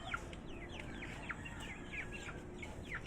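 Chickens and chicks cluck and peep before feeding, with high thin chirps repeating quickly over a low, faint background, soft and somewhat distant.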